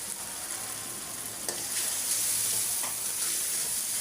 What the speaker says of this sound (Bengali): একটু পানি দিয়ে মশলাটা আমি কষাই নিই